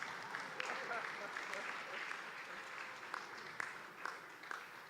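Audience applause at a family business conference in Lagos, a steady patter of many hands clapping with sharp individual claps standing out, moderately loud, with some speech faintly underneath.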